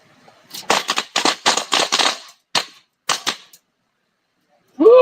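Sharp, close gunshots crack in rapid clusters on a range during a state shooting championship, roughly a dozen shots in quick runs with short pauses, then a whistle or beep sounds at the end.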